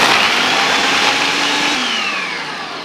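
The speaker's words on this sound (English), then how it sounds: "So is that better in the food processor than the blender?" A food processor grinds frozen fruit with coconut milk in a home kitchen, a loud steady motor whir with a rough churning texture that slowly eases off, with no talking.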